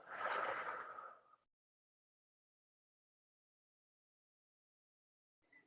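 A single deep, breathy exhale during a guided mindfulness breathing exercise, close and fairly loud for just over a second, followed by near silence and a short faint breath at the very end.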